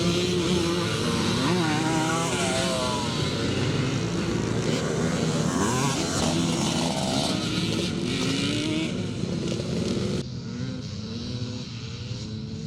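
Classic pre-1984 racing motorcycles thunder past on a lap at Penrith, a loud continuous engine roar with rising and falling revs as several bikes pass close by, then a slightly quieter drone at the end.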